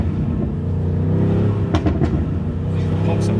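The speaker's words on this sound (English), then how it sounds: "Pops and bangs. Sound incredible." A BMW M5 Competition rumbles with a deep, loud exhaust drone, punctuated by a few sharp pops and bangs, two close together and one near the end.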